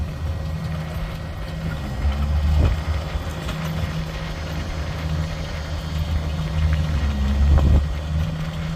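A vehicle drives in with a steady low engine rumble that swells gradually and stays close, no voices over it.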